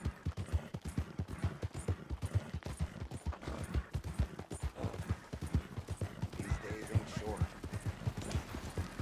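Horses walking in Red Dead Redemption 2, a steady run of close hoof clip-clops that carries through the whole stretch, with occasional whinnies and distant gunfire-like pops behind them.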